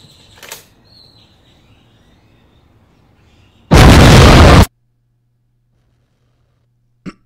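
A single loud explosion sound effect in a DIY quadcopter toaster-drone setting. It bursts out of near silence and lasts about a second, with a faint tap before it and one brief pop afterward.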